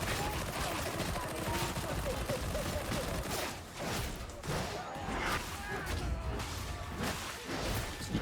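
SMG fire in Darktide, dense rapid bursts crackling continuously amid combat whooshes and impacts, loud and busy with faint voices beneath.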